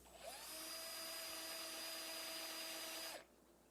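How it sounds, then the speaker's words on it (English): A power drill countersinks a screw hole in wood during a custom guitar build, a single close, high whirring burst lasting about three seconds that rises to speed and then cuts off, with no talk. "And I'm just going to countersink."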